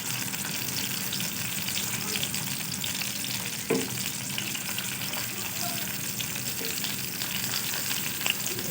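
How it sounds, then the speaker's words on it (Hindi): Onions sizzle in desi cow ghee in a pan at the start of a village-style watermelon curry, a steady, close crackling fry with occasional stirring and scraping sounds and no voices. "तो सबसे पहले हम इसमें प्याज डाल देते हैं।"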